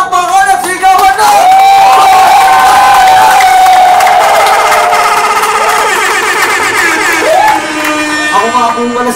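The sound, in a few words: crowd applauding and shouting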